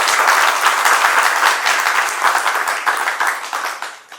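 Loud, dense applause fills an audience hall at a retirement function, steady at first and then tapering off toward the end.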